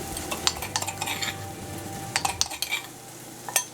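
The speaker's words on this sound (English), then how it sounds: "I'm going to add cauliflower and the leftover masala" Cauliflower and leftover masala going into a hot pan, stirred with a utensil: soft sizzling frying under sharp scraping clinks at irregular intervals, close and fairly quiet, with no voices.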